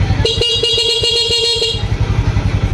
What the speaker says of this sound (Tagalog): Try natin yung busina sa stock